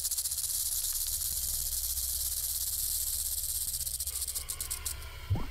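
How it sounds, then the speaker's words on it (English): A rattlesnake shakes its tail rattle in a steady, continuous high dry buzz that holds for several seconds, then breaks into a few brief bursts near the end, with no voices. "The older the rattlesnake gets, the longer its rattle."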